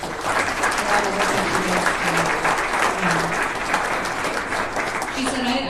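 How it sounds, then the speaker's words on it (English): Audience applause fills a town hall meeting hosted by a governor in Winner, steady clapping under a murmur of crowd voices for several seconds. "could you all give her a round of applause and thank her for all the work"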